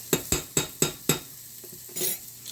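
Butter chicken with onion and garlic being stirred in a pan: five sharp, evenly spaced scrapes and clinks of a utensil against the pan, then a softer rustle, close and fairly quiet with no talking.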